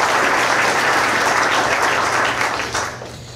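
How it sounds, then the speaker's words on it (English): Dense, loud audience applause for guests at a university athletics press conference, a continuous roar of many hands that holds steady and then begins to fade near the end. "Let's give them a round of applause"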